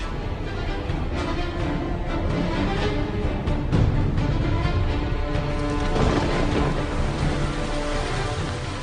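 Steady heavy rain pours down outdoors in a dense, continuous hiss, with low rumbling swells suggesting thunder in the background and no voices.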